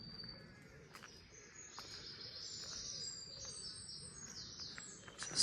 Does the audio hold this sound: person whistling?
no